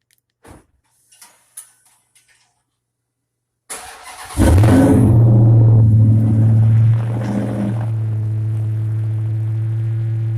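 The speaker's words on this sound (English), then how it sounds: "It just had this different cold start sound, like this gurgling." A red Dodge Charger Hellcat fires up from a cold start: a few faint clicks, then a loud burst as the engine catches, followed by a deep, steady gurgling idle close by.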